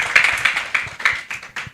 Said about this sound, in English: Another applause for Ilse too.